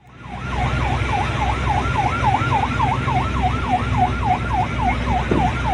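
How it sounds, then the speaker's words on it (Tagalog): A loud ship siren aimed at fishermen wails in fast, repeated rising-and-falling sweeps, steady and continuous over a low engine rumble. "binugahan ang mga mangingisda natin ng sirena"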